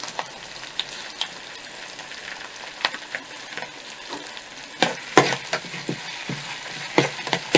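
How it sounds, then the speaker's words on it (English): Onions and locust bean frying in hot oil for ayamase sauce, a steady sizzle broken by sharp crackles and pops that grow louder and busier in the second half, with occasional stirring scrapes and no voices. "now that the oil is hot, the next thing you want to add is your onions. And almost immediately you add your locust bean."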